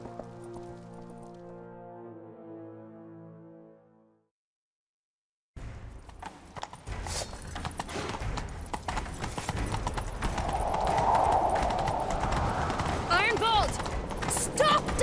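Horse hooves gallop in The Witcher 3, a rapid rhythmic clip-clop under rain-like ambience and rising noise after a brief music passage and a moment of silence, with voices speaking.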